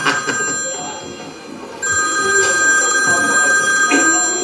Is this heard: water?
no